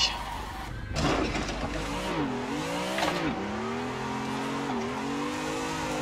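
A car drifting in a video game driving simulator, engine revving and rising and falling in pitch with continuous tire squeal as the car is held sideways in a long slide, loud and close with no voices.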